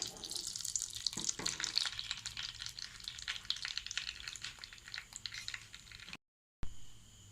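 Ghee heating in a pan for semiya payasam gives a steady, faint crackling sizzle that runs on alone, dropping out briefly before resuming near the end.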